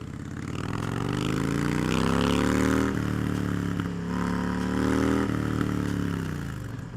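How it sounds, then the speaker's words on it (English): A 2006 Harley-Davidson Street Bob, the model's first year, runs close by with a deep, loud engine note that swells as it revs up, eases back, then climbs again. "No other bikes sound like Harleys."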